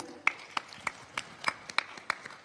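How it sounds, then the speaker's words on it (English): A small audience claps for a concert crew at the Esplanade Concourse theatre, a thin, sparse applause of distinct claps spaced about a third of a second apart, fairly quiet and fading. "A round of applause for them."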